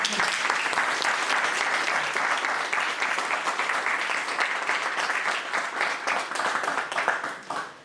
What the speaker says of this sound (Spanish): vamos a darles primero un gran aplauso